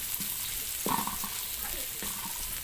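Onions frying in a pan for pork hamonado, a steady sizzle with a few light scrapes of stirring on top.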